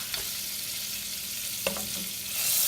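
Butter, three tablespoons, melting and sizzling in a pan for rice crispy treats, a steady soft crackle with a few brief clicks and scrapes as it is stirred.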